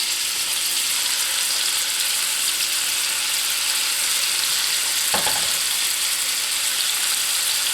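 Seasoned beef tips searing in a hot pan throw off a steady, dense hiss that holds without a break, with one brief clank partway through.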